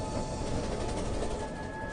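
A train passes with a continuous low rumble and rolling rattle of wagons, steady and moderately distant, with a faint high whine running through it and no voices.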